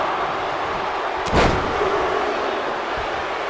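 In a WWE 2K26 Hell in the Cell match between Brock Lesnar and Oba Femi, a single heavy elbow strike lands as a sharp thud over a constant roar of arena crowd noise.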